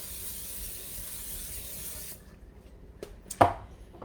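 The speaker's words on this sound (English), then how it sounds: "You want to spray your pan" A steady aerosol hiss of cooking spray into a pan for about two seconds, then it cuts off; a short clatter follows in the quiet.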